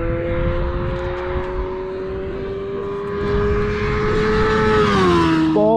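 A small motor scooter ridden through town, its engine droning steadily close by with a rising whine and a shift in pitch near the end, no talk over it.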